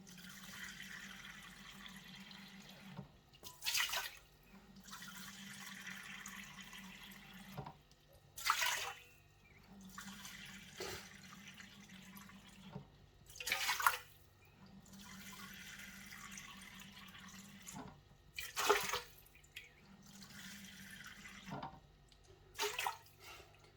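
Water is poured into a bowl several times for bread dough in short, splashing bursts about five seconds apart, faint and close, with a low hum between pours.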